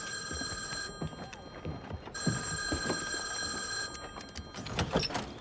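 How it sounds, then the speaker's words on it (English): A telephone bell rings in two long trilling bursts with a pause between, while footsteps and movement shuffle around the room underneath. "Allie, answer the phone."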